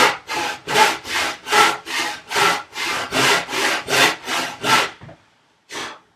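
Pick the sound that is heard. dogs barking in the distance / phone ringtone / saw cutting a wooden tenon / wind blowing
saw cutting a wooden tenon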